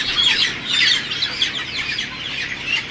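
A flock of farm chickens, held for beak trimming, keeps up a dense chorus of clucks and high chirps, loud and continuous, with no voices over it.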